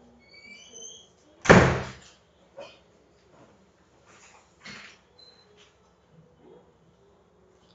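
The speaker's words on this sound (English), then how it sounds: "Close that door, please." An indoor door closes with a single loud thud, followed by a few faint knocks and shuffles in a quiet room.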